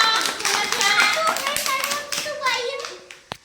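Children clap their hands in rhythm along with a sung action song, quick close claps ringing out under the singing voices, with a sharp final clap.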